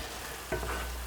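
Lamb pide filling simmering in a pan gives a close, steady bubbling sizzle, and midway a short scrape from a stirring utensil cuts through.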